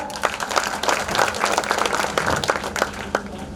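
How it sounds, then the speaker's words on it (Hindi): Audience at a school annual function clapping in a loose, moderate applause, scattered claps rising and falling at medium distance without voices on top. "गड़गड़ाहट वाली ताली फिर से हो जाए"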